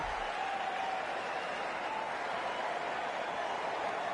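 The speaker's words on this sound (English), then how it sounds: "The crowd is electric right now." Stadium crowd in the video game Cricket 24 during an India versus Pakistan T20 match, a steady, fairly faint roar of cheering and applause that holds evenly throughout.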